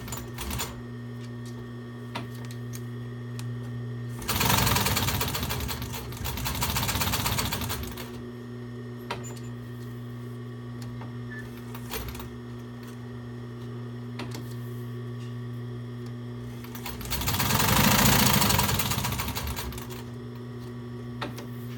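A Nakajima TDU-N62 industrial sewing machine running Tex 70 thread stitches in two loud bursts of rapid, even needle clatter over a steady motor hum, with quiet pauses between them.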